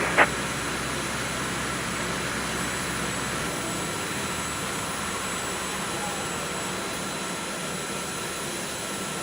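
A Boeing 737-200 in the X-Plane 11 flight simulator during pushback and engine start: a steady, loud jet whine and roar fills the scene, with a brief click at the start and a low rumble that fades partway through.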